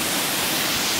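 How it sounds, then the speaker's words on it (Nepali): A waterfall in the Nepal hills gives off a loud, steady, close rush of falling water for a brief moment, with no other sound standing out. "निकै सुन्दर झरना यो।"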